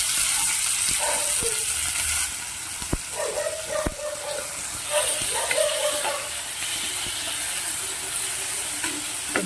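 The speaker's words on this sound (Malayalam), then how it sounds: "ടൊമാറ്റോ കട്ട് ചെയ്തോടെ ഇട്ട് കൊടുക്കാം" Chopped tomato hitting a pan of frying onions for a Malayali matki and potato masala, giving a steady close sizzle and hiss with faint stirring scrapes throughout.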